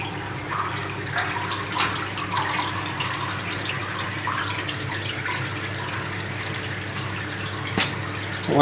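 A hydrodipped game controller rinsed under running water, a steady soft splashing flow with faint drips and clatter, fairly quiet throughout.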